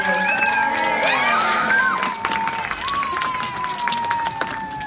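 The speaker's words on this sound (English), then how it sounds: "let's give him a massive cheer everybody" An audience at a sea lion show cheers and whoops loudly, with children shouting and scattered clapping, as a steady crowd roar holds for several seconds.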